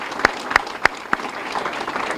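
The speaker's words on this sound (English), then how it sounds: "let's have a round of applause for Shelley for being the MC tonight." A few sharp, separate handclaps ring out at a Boys and Girls Club Youth of the Year event, then give way to a low murmur of room noise.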